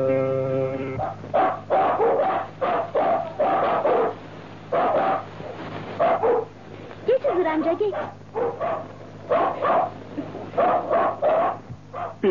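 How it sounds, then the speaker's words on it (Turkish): Dogs bark repeatedly in a film scene, with rapid clustered barks and a few yips close by. Someone speaks briefly over the steady low hum of the background. "kaç yıldır şu köpekleri alıştıramadım gitti"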